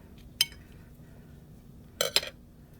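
A utensil clinking against a bowl while eggs with broken yolks are mixed, one sharp tap followed later by a quick double clink, close and otherwise quiet.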